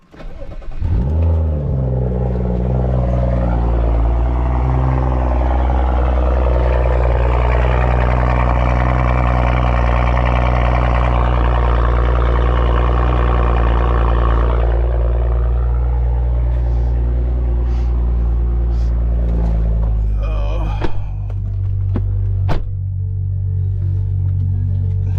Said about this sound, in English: I think give y'all a real cold start